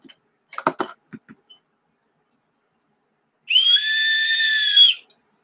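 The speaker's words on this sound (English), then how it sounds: "I'm gonna need my rape whistle." After a few soft clicks and taps, a personal safety whistle gives one shrill, steady blast lasting about a second and a half, loud and alone.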